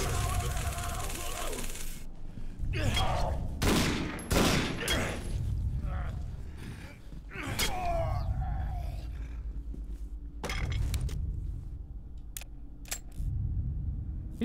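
Gunfire in the video game Condemned: Criminal Origins, several sharp shots spread across the stretch, with someone talking between and over them and other clatter in the mix.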